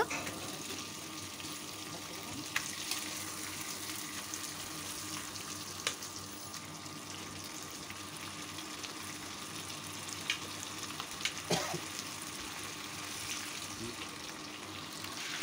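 Washed mutton frying in a ready-cooked paste of ground spices for mutton curry with whole garlic, giving a steady, close sizzle with faint watery sounds and a few clinks of stirring throughout.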